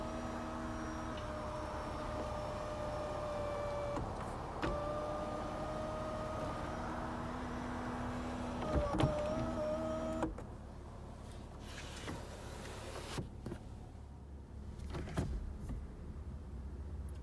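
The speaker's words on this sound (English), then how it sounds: "We can either tilt or slide the roof." Power sunroof on a 2019 Lexus RC350 F Sport whirring as it tilts and slides, a steady electric motor hum for about ten seconds with small clicks, then stopping into quiet cabin ambience with a few soft thumps.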